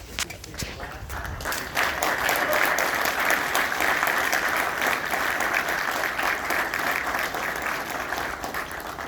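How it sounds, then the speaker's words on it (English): A large crowd applauds steadily for several seconds at a military change of command ceremony, a dense, sustained wash of clapping that stays fairly even before easing slightly toward the end. "Let's take a round of applause."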